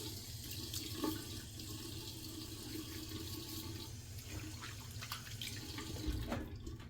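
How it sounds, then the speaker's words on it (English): Water runs steadily from a sink tap and is splashed onto a face before a straight-razor shave, a continuous close rush with small splashes and drips and no talking. "I'm gonna put some water in the face real quick"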